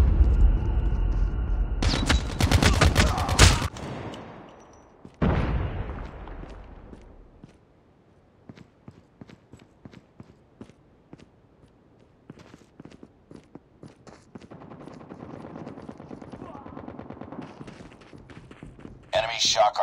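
Gunfire in Call of Duty Mobile, a loud dense burst of shots early on, followed by a heavy impact and then quieter scattered footsteps and clicks, with voice callouts in between.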